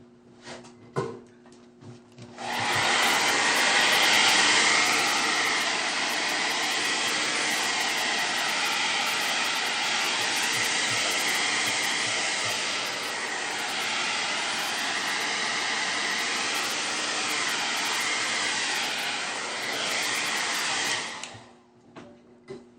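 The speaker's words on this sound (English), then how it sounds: "I'm going to go ahead and blow dry this so that I can get all the alcohol dry" A hair dryer blows steadily on stencil paint and alcohol on a DIY home decor craft piece, a loud continuous whooshing roar lasting about twenty seconds, alone with no talk.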